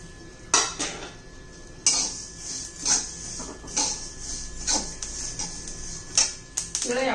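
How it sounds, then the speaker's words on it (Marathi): Sesame seeds roast in a pan over a low gas flame, with a spoon scraping and clinking against the metal in sharp, irregular strokes that rise above a quiet kitchen background. "तिळ आपण असं मस्त भाजून घेऊया मंद गॅसवर"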